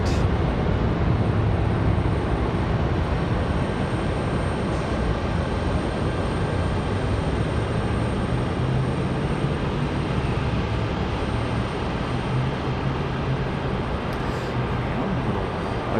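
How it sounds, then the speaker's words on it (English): Steady, loud broadband roar of a Delta CRJ regional jet engine at the end of an airport runway, a continuous rumble holding without a break throughout. "There's a Delta CRJ. Out here at the end."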